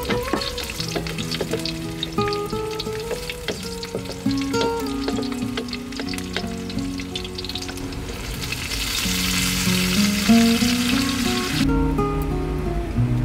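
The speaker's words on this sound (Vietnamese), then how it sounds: "mình bắt chảo lên phi tỏi để làm món đọt bầu xào tỏi" Garlic fries in a pan for stir-fried gourd shoots, giving a steady crackling sizzle with music playing underneath. The frying swells louder and denser partway through.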